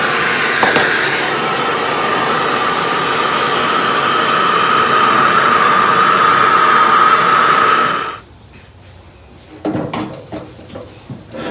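A torch heats the bend of a Jeep Willys fender with a loud, steady roaring hiss that runs for about eight seconds and then cuts off, followed by a few scattered metallic clanks.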